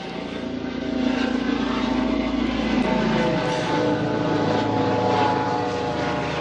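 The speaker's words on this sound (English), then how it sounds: "It's a helicopter." A helicopter passes overhead above an allotment garden, its engine drone and rotor whir loud and sustained, swelling after the first second and holding steady with a shifting pitch.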